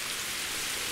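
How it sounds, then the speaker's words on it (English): Steady rain falls in the video game The Enigma Machine, an even, continuous hiss of drops with no talk over it. "it's raining out here too"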